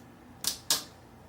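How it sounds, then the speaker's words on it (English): A replacement T key on an early 2011 13-inch MacBook Pro 2.3 GHz Core i5 pressed down onto its keyboard, giving two short, crisp snaps in close succession against a quiet background. "push down on the T key until you hear a couple snaps"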